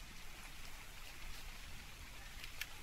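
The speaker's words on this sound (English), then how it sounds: "Oh, the rain. I need that rain." Rain falling in the video game Ark Survival Evolved, a faint steady patter and hiss of drops running without a break, with no voices over it.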